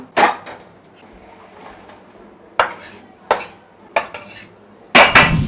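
Roasted flour being scraped out into a metal plate for puff karanji, with several sharp metallic clatters and scrapes of utensil on metal, spaced apart over a quiet background.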